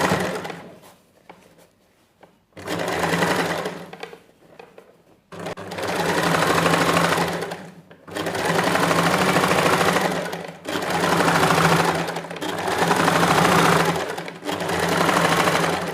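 A sewing machine stitches a lined neckline, running in loud close bursts of steady rapid whirring, several runs of a couple of seconds each separated by short pauses.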